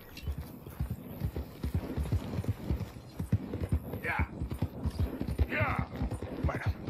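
Horse hooves clip-clop steadily in Red Dead Redemption 2, a rhythmic trot close by with an occasional whinny, all under constant background game sound.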